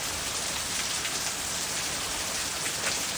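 Steady rain pouring down during a storm, a dense, even hiss of drops on surfaces that runs unbroken and fairly soft throughout, with no voices.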